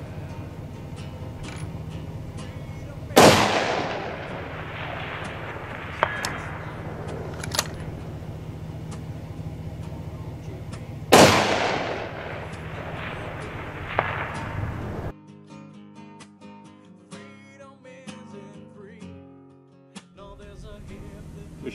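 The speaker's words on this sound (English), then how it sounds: "Shooting the one in the road up here." Two loud, sharp rifle shots crack out in the woods during precision shooting practice, each followed by a long decaying echo, with quieter handling clicks between them and a quieter stretch at the end.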